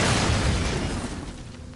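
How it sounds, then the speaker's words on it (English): A thrown bomb in the samurai action game Nioh bursts with a loud, close boom that rumbles heavily and then fades over about two seconds. "I'm just going to throw a literal bomb at it."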